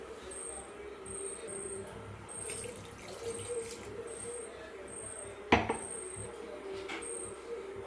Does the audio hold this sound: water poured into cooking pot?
yes